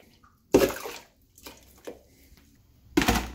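Coconut water poured from a container into a cup for a green smoothie, three short close splashing bursts separated by brief pauses.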